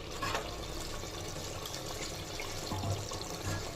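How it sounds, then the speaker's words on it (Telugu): Water is poured into a pot of partly cooked chicken for chittinad biryani, a soft, continuous splashing trickle that stays fairly quiet and even throughout. "ఇప్పుడు మనం వాటర్ పోసేద్దాం"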